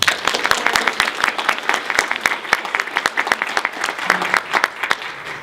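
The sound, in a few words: audience applause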